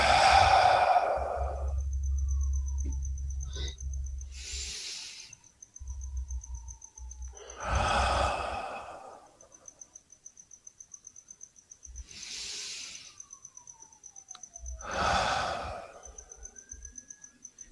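Slow, deep breaths during a heart-focused breathing exercise come as about five long, soft exhales and sighs spaced several seconds apart, with quiet gaps between them and a faint steady high tone in the background.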